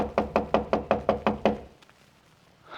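Seven sharp, evenly spaced knocks on a door ring out close and loud, followed by quiet room tone with faint small noises.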